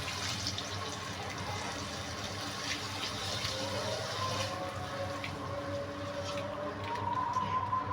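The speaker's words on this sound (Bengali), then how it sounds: "এবার এর ভিতর পানি দিয়ে দেব" Water pouring into a pan of prawn curry, a steady close rushing splash that runs continuously and swells slightly toward the end.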